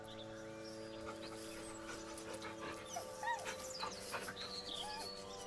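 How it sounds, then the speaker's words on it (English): A dog whines and whimpers in the video game Baldur's Gate 3: thin, wavering high cries rise and fall over a sustained musical drone, steady and moderately loud, with no talking. "With a deep, heartbroken whine, the dog bows his head. The dog whimpers nervously"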